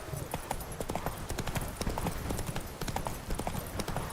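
The horse Roach trots in The Witcher 3, giving a steady run of close, crisp hoof clip-clops with a faint voice under them.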